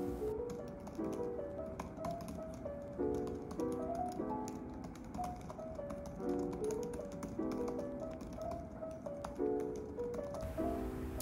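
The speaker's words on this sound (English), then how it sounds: "The typing experience on the iPad Magic Keyboard is just really a good one" Quiet, rapid key taps come from typing on an iPad Magic Keyboard, a soft irregular clicking patter set against faint background music.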